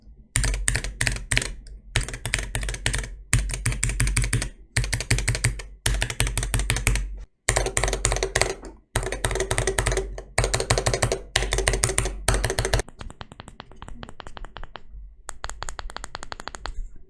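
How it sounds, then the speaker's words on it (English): Keys clatter on a Wooting UwU keypad in rapid bursts of close, crisp tapping with a deep thock, broken by short pauses, then continue more softly toward the end. "Here is a sound test for those wondering."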